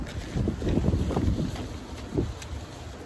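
Outdoor wind buffeting and rumbling against the microphone in uneven gusts, steady and fairly loud, with no voices.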